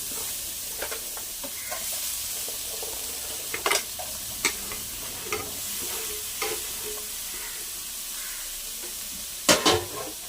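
Beetroot stir-frying in a pan with a constant bright sizzle, punctuated by scattered scraping and tapping strokes of a spatula, including a louder clack near the end, with no talking.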